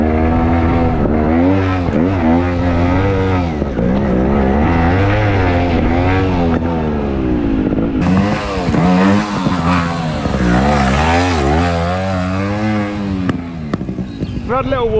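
Trials motorbike engine revving hard while riding up a hill, loud buzzing tones rising and falling with throttle changes throughout, heard close and continuous.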